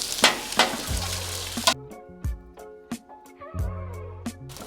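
Seven eggs scrambled in a pan, with crackling sizzle and sharp utensil taps against the pan, then a low electrical hum and intermittent clicks and scraping, close and fairly quiet.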